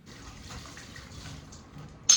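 Dishes washed under a running tap: a soft, steady rush of water with faint clinks, then a brief louder splash at the end, close by and without talk.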